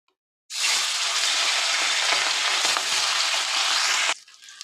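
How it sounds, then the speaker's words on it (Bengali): Salted catla fish pieces dropped into hot oil burst into a loud, dense, continuous sizzle that starts abruptly and holds for several seconds before cutting off, close and alone. "তেল গরম হয়ে গেছে, এবার একটু লবণ দিয়ে মাছটা ভেজে নেব"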